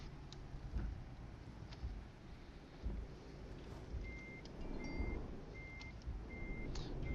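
A truck's reversing alarm in the video game Euro Truck Simulator sounds as evenly spaced, fairly faint beeps in the later part, over a low steady engine rumble.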